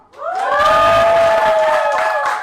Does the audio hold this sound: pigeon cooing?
no